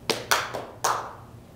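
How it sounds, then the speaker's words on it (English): A room audience claps once on request: a few separate clusters of claps land close together, sharp and fairly near, then fade into quiet room tone. "I'd like you all to clap once if you've read a poem or a book of poetry"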